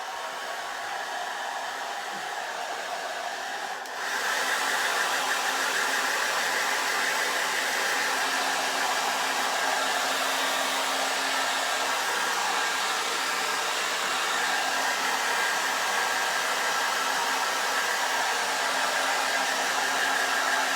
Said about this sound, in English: let me blow dry him to help dry him a little bit